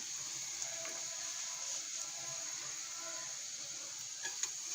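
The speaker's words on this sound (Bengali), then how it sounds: "এখন খুব দ্রুত আবার তেলের মধ্যে ডুবিয়ে এভাবে ঝাঁকাতে থাকবো।" Fuljhuri pitha batter frying in hot oil, a continuous quiet hiss and crackle held close, with a few light taps as the mould is shaken in the oil.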